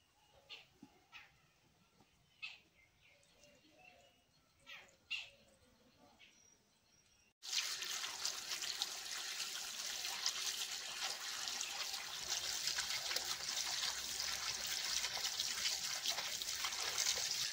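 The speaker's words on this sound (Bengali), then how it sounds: "মাছটা কেটে নিলাম, এখন ধুয়ে নিচ্ছি।" Running water from a tap rinses cut snakehead fish, starting abruptly after a quiet start with faint scattered sounds and then continuing as a steady, fairly loud splash and rush to the end.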